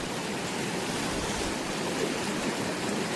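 A river stream flows at night, a steady broadband rushing of water that stays constant and close with no talk.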